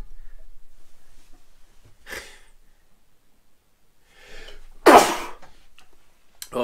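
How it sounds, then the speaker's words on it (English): A single loud, close sneeze bursts out after a quieter breathy intake, with a short sniff or breath following; no one talks over it. "I've got to sneeze"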